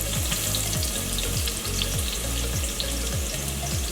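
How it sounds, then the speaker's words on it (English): Onions fry in hot coconut oil in a pot, a loud, dense sizzle with a regular rhythmic bubbling pulse running underneath, close-up and steady, with no one speaking. "we're just going to add some of this coconut oil to our pot that is already hot. And we're going to do half of the onions"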